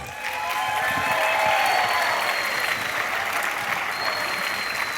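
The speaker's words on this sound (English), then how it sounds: "Let's have a round of applause for Kim Kroeger-Bushell." A large crowd in Daytona Beach claps in sustained, dense applause for a speaker taking the stage, staying loud and steady throughout, with a few faint cheers.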